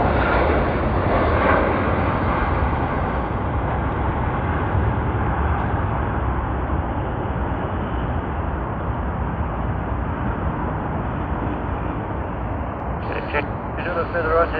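A China Southern airliner at Sydney Airport roars as a loud, steady, broadband engine rumble that holds for the whole stretch, close and uninterrupted.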